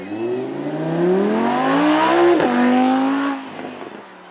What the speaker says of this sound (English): V10, but that sound, it gives me goosebumps. It's such a lovely shriek coming from the engine of that.